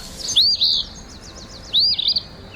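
An eastern phoebe (Sayornis phoebe) gives two clear, high, rasping call phrases, each with a quick stuttering tail, alone against a faint quiet background.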